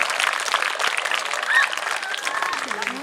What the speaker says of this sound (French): Mesdames, messieurs, un tonnerre d'applaudissements pour Rachid, s'il vous plaît